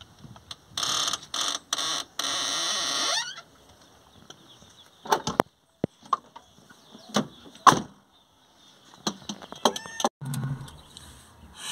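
A car door is closed. A few sharp, isolated thumps and clicks stand out among scattered short rustles and noises, with quiet gaps in between.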